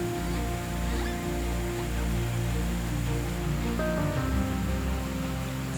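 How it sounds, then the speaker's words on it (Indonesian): The Tembinus waterfall rushes in a forest in East Kalimantan, a dense, steady roar of falling water that stays loud and unbroken throughout, with no voices. "Derasnya air terjun sudah terdengar."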